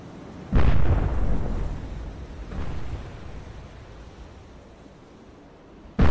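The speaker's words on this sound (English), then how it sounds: "Fire missile." A submarine missile launch in the naval combat game Cold Waters, set in a 2002 Russian campaign: a loud booming blast that rumbles away, then a second softer thud and a fresh blast at the end.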